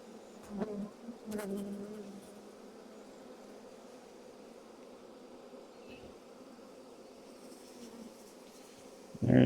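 A honeybee swarm, loose and disorganized as it clusters back up, makes a continuous, moderately loud buzzing drone throughout, with individual bees passing close at the start and a sharp handling noise at the end.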